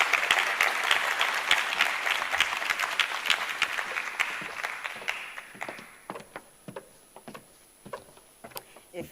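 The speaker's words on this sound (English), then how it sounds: "Please give her a round of applause as she comes on stage." Audience at a mayoral matric awards ceremony applauds as a graduate comes on stage, a dense roar of clapping that thins out into scattered individual claps toward the end.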